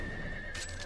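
A horse in the video game Wo Long: Fallen Dynasty lets out a short neigh over a constant loud game soundtrack drone, with a brighter whinnying burst near the end of the brief moment.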